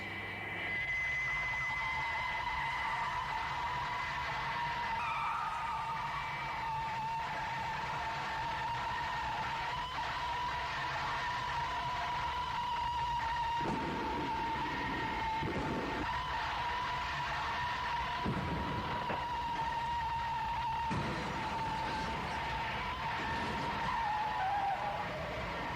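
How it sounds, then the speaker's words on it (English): Tires skid and squeal under maximum braking as a Thunderbirds aircraft runs out of runway, a loud, sustained screech with a steady tone that wavers and dips near the end, alone without talk. "Applying maximum brakes."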